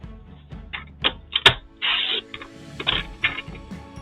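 Card stock being cut down to size for a handmade Christmas card project, a series of short snipping and clicking cuts with a few longer sliding swipes, close and fairly quiet, with no talking.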